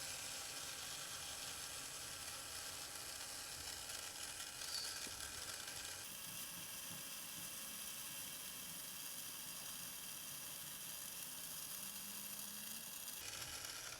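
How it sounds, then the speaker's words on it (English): Screws being backed out of the extruder motor on a clogged 3D printer: a steady close mechanical whirring, like a small powered driver, running throughout with a brief shift partway through and no talking. "We need to take these two screws off, which would help us to take apart the motor."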